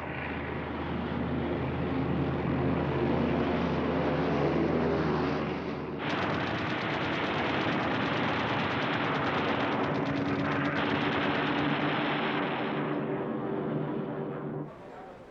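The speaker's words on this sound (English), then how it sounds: "Messerschmitt Bf-110s followed up in strafing attacks, concentrating on fuel supplies and aircraft in the open" Messerschmitt Bf-110 fighters on a strafing attack against fuel supplies and parked aircraft: loud, continuous roar of engines mixed with dense, rattling gunfire, with a sharp shift in intensity midway and a brief dip near the end.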